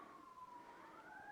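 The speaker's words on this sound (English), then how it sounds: "sorry for the sirens." Distant emergency vehicle sirens wail faintly and continuously, their pitch sliding slowly down and then rising again across a brief moment.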